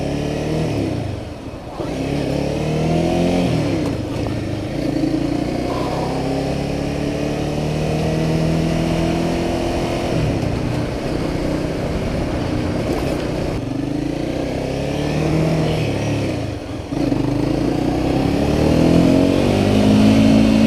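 A 2015 Honda CBR 300R motorcycle engine pulling hard and revving through the gears while riding, a loud, steady drone with rising and falling pitch sweeps, close to the rider and heard alongside his occasional talk.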